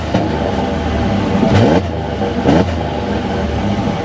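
A 2011 Ford Ranger XLT 4x4 with a 4.0L V6 and chrome exhaust tip idles up close, then gets several quick throttle blips that swell and fall back to a rough idle, with no voices.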